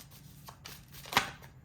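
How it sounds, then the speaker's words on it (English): Oracle cards being shuffled by hand, a few soft papery riffles and slides ending in one sharper snap of cards, close and fairly quiet, with no talking. "I shuffle until the card draws itself"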